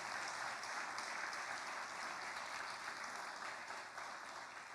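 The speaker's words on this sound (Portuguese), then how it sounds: "aplauda e glorifique o Senhor" A church congregation applauds steadily for several seconds, a dense, even wash of clapping that holds at a constant level and eases slightly toward the end, with no voices over it.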